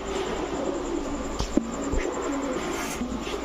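Short-tailed long-distance racing pigeons coo softly and repeatedly at close range, with a few brief bird calls mixed into the steady low murmur.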